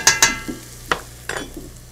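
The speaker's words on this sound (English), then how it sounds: "Then we're going to saute that till they're nice and translucent." Onion and garlic sautéing in a pan for risotto in a restaurant kitchen: a few sharp spoon scrapes and clanks over a low, steady background sizzle.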